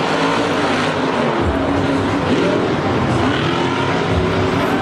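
Monster trucks racing at Monster Jam in Philadelphia, a loud, continuous engine roar with revving and dense crowd-arena noise, steady throughout with no clear breaks.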